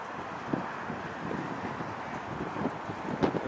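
Stiff wind buffets a handheld microphone outdoors at an airport, a continuous rushing rumble with gusty thumps, fairly faint overall and without voices.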